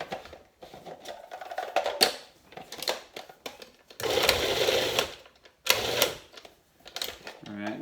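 A food processor grinds a cooked mixture of sautéed onions and mushrooms in short, loud whirring pulses with pauses between them, while a person talks over and between the bursts.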